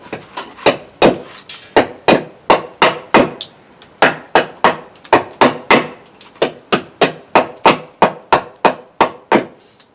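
A cheap Chinese axe strikes wood in a fast, steady series of about thirty sharp, loud, close chopping blows, each one a crisp impact with a short ring.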